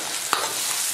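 Green and red peppers hit a hot wok with chili oil, scallion, ginger, garlic and dried chilies and are stir-fried. A close, loud, steady sizzle carries a brief scraping stir partway through, with no voices.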